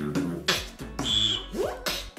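A beatboxer imitates bass, kick drum and electronic sounds with the voice, a quick rhythmic sequence of punchy low thumps, hissy bursts and whistly, gliding synth-like tones.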